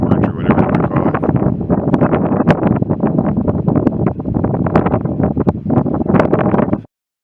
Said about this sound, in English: the wind shooting right up that gorge or whatever you want to call it